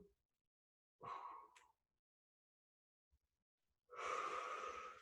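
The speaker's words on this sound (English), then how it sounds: "So go ahead and take a deep breath in. Exhale, reach through." A deep breath drawn in during a lower back and hip mobility stretch, then a long audible exhale after a pause, both close and clear against near silence.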